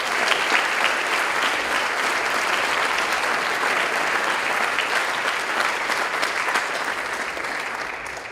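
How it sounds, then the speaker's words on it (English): Steady, full applause from a school hall audience honoring committee members at an academic hall of fame induction ceremony, sustained evenly for about eight seconds before easing slightly at the end. "Please give them a round of applause."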